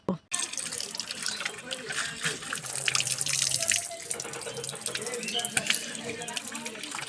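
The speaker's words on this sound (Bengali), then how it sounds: "কলে ভালো করে বোতলগুলো ধুবো আর জল ভরবো" Bottles being rinsed and filled at an outdoor tap, with water splashing and gurgling steadily and close by, under intermittent talk.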